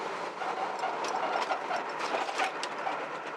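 A 1976 Pontiac Firebird Formula V8, still cold-blooded, idles steadily, a continuous mid-level engine rumble with a light rhythmic ticking clatter throughout, no talk.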